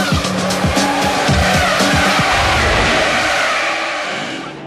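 Proton production race cars at full pace in qualifying at round 1 of the 2003 AFOS championship, engines roaring loudly with sharp gear-change revs and tyres squealing through corners, the noise fading slightly at the end.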